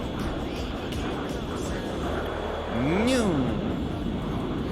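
A plane makes a vertical takeoff in a low-poly air combat video game: a steady engine hum swells into a brief rising and falling whoosh of thrust. A voice is present in the background.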